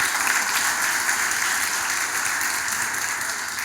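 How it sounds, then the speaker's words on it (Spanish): Applause from a church congregation fills the space, a dense, steady wash of many hands clapping that carries on evenly for a few seconds, with no voices over it. "Denle un aplauso a él."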